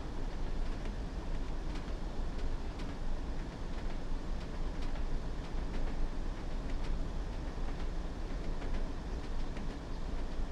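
A train running in Train Sim World on the Northern Trans-Pennine route at about 60 mph: a steady rumbling roll with faint rhythmic wheel clicks, moderately quiet and continuous, with no speech.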